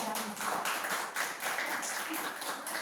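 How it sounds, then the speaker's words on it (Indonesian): Classroom applause for the first group of students, a steady wash of clapping hands lasting throughout without pause. "Tepuk tangan untuk kelompok pertama."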